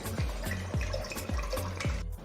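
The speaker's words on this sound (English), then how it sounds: "So to the pot, take enough water for boiling." Water pours into a cooking pot for boiling potato pieces, a continuous close splashing with rhythmic low gurgling pulses.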